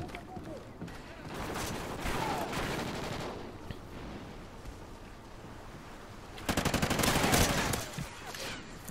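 Silenced gunfire in Call of Duty: Ghosts on Xbox 360, bursts of muffled rapid shots with a louder cluster near the end, heard under a game's background noise and a voice.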